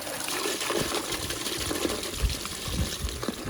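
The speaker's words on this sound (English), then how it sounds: "water collected. Let me just tip that out." Collected water from the reservoir of a Beko condenser dryer is tipped out, a soft, steady trickling pour heard close up and alone.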